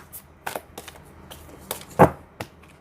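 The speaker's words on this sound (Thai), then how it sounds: "เดี๋ยวเรามาสับไพ่กันก่อนเนาะ" Tarot cards being shuffled by hand, heard as a series of short, crisp riffling and slapping bursts with brief pauses between them. The sound is close and fairly quiet, and one louder snap comes near the end.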